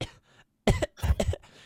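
Coughing sounds up close in a voice chat: a short cough, a brief pause, then a burst of several harsh coughs in quick succession.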